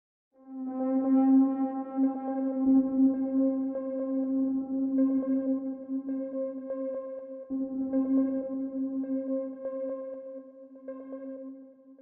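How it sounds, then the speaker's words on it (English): A synth texture from Spitfire Audio's Labs range, a sustained tonal drone with layered harmonics and subtle shifting detail, steady and alone for about twelve seconds. "Here's an example of a synth texture from Spitfire Audio's Labs range."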